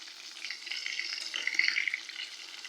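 Pangas fish pieces frying in hot oil in a pan for a curry, a steady close crackling sizzle that swells slightly mid-way, with no talk.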